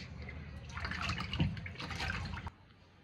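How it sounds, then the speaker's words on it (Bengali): Tap water running steadily over fish being washed by hand, a close splashing stream with small bursts of agitation before the flow cuts off near the end. "একে একে এখন আমি সবগুলো মাছ খুব সুন্দরভাবে ধুয়ে নিব"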